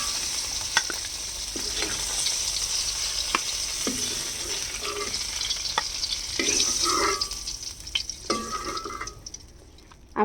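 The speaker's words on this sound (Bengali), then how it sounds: "আমি এই তেলের ভিতরেই ফুলকপি আর আলু আমি ভেজে নেব।" Cauliflower and potatoes fry in hot oil left over from frying fish in a pan, giving a steady close sizzle broken by scraping stirs and clinks of a spatula, with no one speaking.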